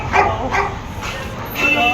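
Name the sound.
dogs barking at a dog market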